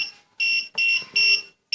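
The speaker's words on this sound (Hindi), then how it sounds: "तो ऐसे बीप करते रहेगा ये।" A note counting machine signals a fake banknote with a repeating electronic beep, four loud, evenly spaced tones with short silent gaps between them.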